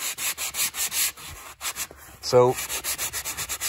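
A sanding block rubs back and forth by hand over a surface, making steady, loud, rhythmic scratchy strokes, with a short spoken word partway through.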